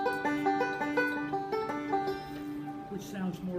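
A picked string instrument plays a short melody with a different finger roll pattern, bright plucked notes in a steady rolling rhythm, close and clear with no talking.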